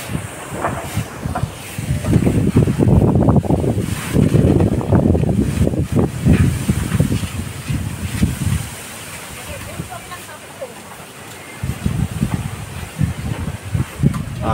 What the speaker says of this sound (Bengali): বৃষ্টি নেই কিন্তু ভীষণ হাওয়া বইছে।